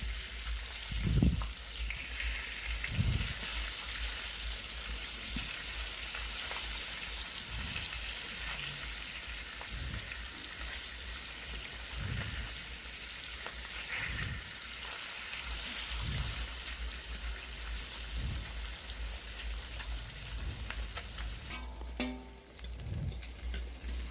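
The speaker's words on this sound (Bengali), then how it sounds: "মাছগুলো আমার খুব ভালো করে ভাজা হয়ে গিয়েছে।" Fish pieces fry steadily in oil for a Bengali fish curry, a continuous close sizzle broken by periodic soft knocks and shuffles as the pieces are turned, with no speech.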